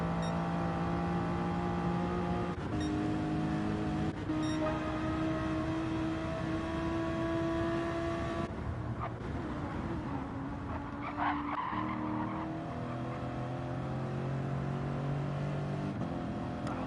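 Race car engines from a sim racing game drone steadily throughout, several cars' pitches rising and shifting as they pass and change gear, with tire squeal mixed in and no talk over them.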